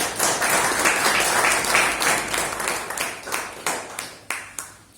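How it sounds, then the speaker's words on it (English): A meeting audience at a stammering support group claps in a steady round of applause, fairly loud at first and then tapering into separate, spaced claps. "So a round of applause for everyone."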